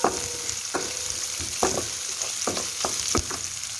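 Onions frying in a pan over a low-medium flame, with a bright continuous sizzle and repeated sharp clicks and scrapes of stirring spaced irregularly, close up and without speech.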